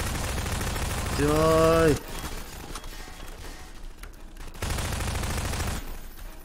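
Pistol shots in the Garry's Mod game, in a Five Nights at Freddy's setting, crack out in short bursts around a loud shouted voice, with brief firing noise continuing after the shout.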